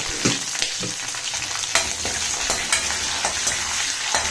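Urad dal, chana dal, green chilies and curry leaves crackling in hot oil for rice upma, a bright, busy sizzle with repeated spatula scrapes and taps; close and fairly loud, no speech.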